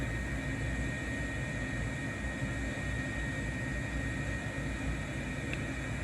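A simulated F-35 in a flight simulator game gives a steady, broadband jet roar throughout, a constant loud hiss-like rush with deep rumble and no talking.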